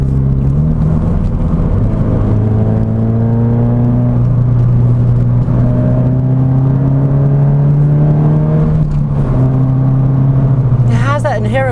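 A Subaru BRZ driven hard on a track sends a loud, sustained engine drone from inside the cabin, rising and shifting in pitch through gear changes, with a brief tire squeal near the end.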